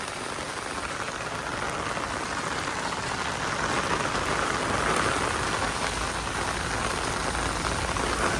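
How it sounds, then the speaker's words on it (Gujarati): A heavy downpour in the town of Bodeli hisses steadily and loudly, an unbroken wash of rain on surfaces with no pauses from start to finish. "તો બોડેલીમાં આવો વરસાદ પડે છે એકદમ પૂરજોશમાં."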